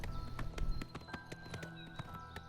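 Horse hooves clip-clop in a steady rhythmic gait in the video game Oblivion Remastered, crisp hollow knocks at moderate distance over faint background ambience.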